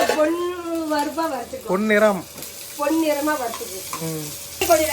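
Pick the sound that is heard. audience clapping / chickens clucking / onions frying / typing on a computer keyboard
onions frying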